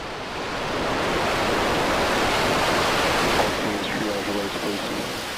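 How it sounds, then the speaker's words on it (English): SpaceX Starship SN10 rocket engines at liftoff roar as a steady, broad rumbling wall of noise that swells in the first second and holds loud and unbroken, with faint tonal traces late on. "We have liftoff."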